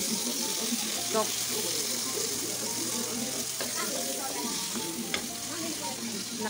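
Brinjal bharta mixture with tomato fries in a pan, a steady close sizzle broken by a few sharp stirring clicks and scrapes, with a voice talking faintly in places.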